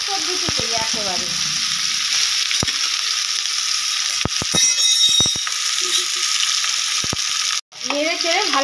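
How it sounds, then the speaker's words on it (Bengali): Jackfruit and potato pieces frying in a pan, a steady close sizzle with a few sharp utensil taps and scrapes, and brief voice sounds at the start and end. "এখন আমি এঁচোড় আর আলুটা ভালো করে ভেজে নেব"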